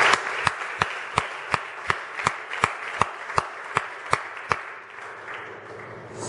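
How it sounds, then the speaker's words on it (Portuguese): A church congregation at a youth service claps in steady, rhythmic unison, with about a dozen sharp regular beats over a wash of applause that thins out at the end. "Uma salva de palmas pela vida do Pai"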